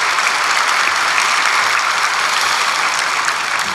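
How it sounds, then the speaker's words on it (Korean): A church congregation at an early-morning prayer service claps in thanks, a dense, even roar of many hands that holds steady throughout without a break. "우리 앞뒤 좌우분들을 위해서도 감사하는 박수"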